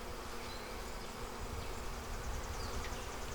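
Honeybees in a Flow Hive hum in a soft, steady, continuous buzz, faint and close, with no voices over it.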